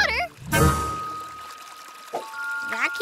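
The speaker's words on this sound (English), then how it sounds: "The sound of the water is so relaxing. Wait, water?" Cartoon sound effect of water pouring and leaking at a beach: a short gush followed by thin trickling tones, with a cartoon voice speaking briefly at the start and end.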